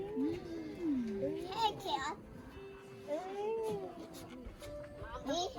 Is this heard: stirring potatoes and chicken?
no